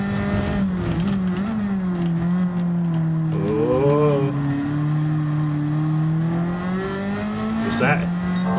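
A race car in Gran Turismo 7 accelerates hard out of a corner, its engine holding a steady loud drone that climbs through the gears, with a brief shift partway through and someone talking over it.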